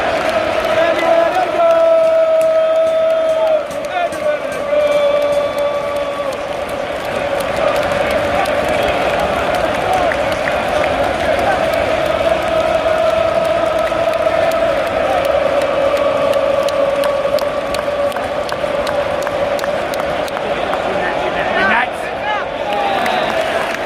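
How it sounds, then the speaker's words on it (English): A loud football stadium crowd at a West Ham match roars and chants in a sustained, dense wall of voices that barely lets up for the whole stretch. "The crowd were loud. I mean, really, really loud."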